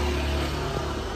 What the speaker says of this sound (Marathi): अनुप आता गाडी काढतोय.